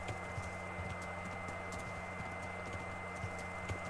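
Horse hooves clip-clop in a steady, moderately paced rhythm in the medieval video game Kingdom Come Deliverance, fairly quiet over a constant background ambience.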